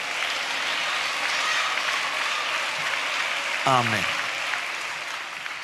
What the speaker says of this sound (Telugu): చేతులెత్తి చప్పలు కొడుతూ స్తోత్రాలు చెప్దాం